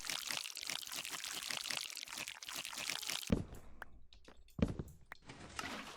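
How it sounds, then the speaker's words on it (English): Water dispensed from a dispenser in Minecraft, heard as a short splashy pour and a couple of sharp bursts after a steady rhythmic run of clicks and rustles, moderately loud with no talk. "Oh snap, I just heard the water dispense."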